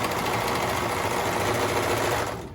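A serger stitches around a circular baby leggings cuff, running at a steady, fast mechanical whir for about two seconds before slowing to a stop at the end.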